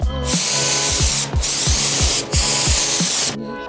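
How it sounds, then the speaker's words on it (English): Custom paint hisses from a spray can onto a handmade surfboard in a series of sustained bursts, broken by two short pauses, close and loud, with a rattling mechanical tone underneath. "Spray can."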